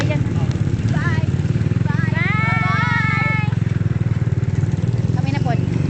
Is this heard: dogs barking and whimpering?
no